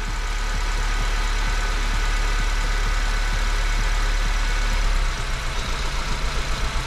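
A 2008 Honda New Civic engine idles steadily with one ignition coil disconnected, running rough and uneven with a low, continuous drone and no talking over it.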